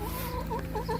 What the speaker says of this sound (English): And then here's the chickens.